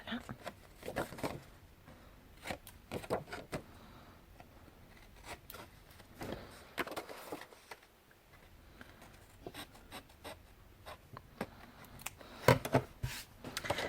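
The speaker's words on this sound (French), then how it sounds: "je vais tout simplement couper les ailes de deux côtés" Scissors cut the paper flaps on both sides of a pocket for a scrapbook baby album, making quiet, irregular snips and paper rustles close by, with brief pauses between cuts.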